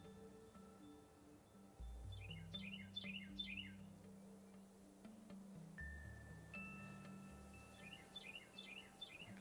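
A bird in the Minecraft video game chirps in two quick bursts of short, repeated calls, faint and high over steady background game music.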